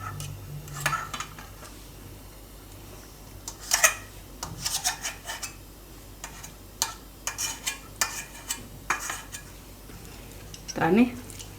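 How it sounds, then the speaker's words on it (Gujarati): Boiled tomatoes and tindora (ivy gourd) being mashed in a pot for a Gujarati tindora oro, heard as soft intermittent scraping and clinking of a utensil, with a person talking over it. "તો આને આ રીતે છૂંદો કરી દઉં બેયનો, ટમેટાં અને ટીંડોળા 2."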